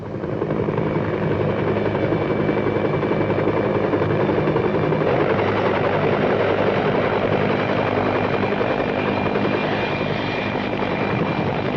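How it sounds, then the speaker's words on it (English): A helicopter flies over Buckingham Palace on a summer morning, a loud, steady rotor thrum and engine whine that holds throughout. "A helicopter over Buckingham Palace on a summer morning."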